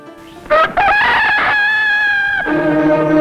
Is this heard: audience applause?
no